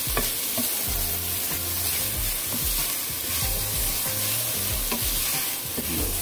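Garlic sautés in a pan over medium-low heat with a steady sizzle, while a utensil scrapes and stirs in repeated rhythmic strokes close by.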